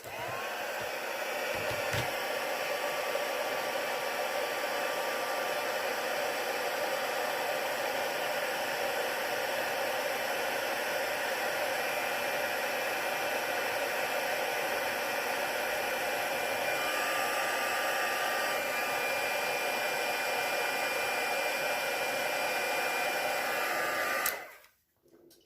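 A heat tool blows steadily and loudly for about 24 seconds while heat-setting stamped embossing on a card, then cuts off abruptly at the end.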